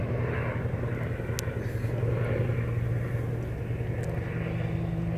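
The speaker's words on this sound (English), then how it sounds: "I'm gonna wait for this helicopter here." A helicopter flies nearby outdoors, its steady low rotor and engine drone holding continuously throughout at a fairly loud, even level with no talk over it.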